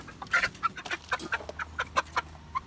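Chickens clucking in short, irregular bursts while establishing pecking order, a rapid series of close, sharp calls over a low background hum.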